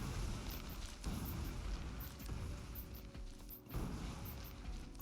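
Grenades detonating in the factory-building video game Factorio, a string of muffled booms and bursts spaced across a few seconds over a dense mechanical background.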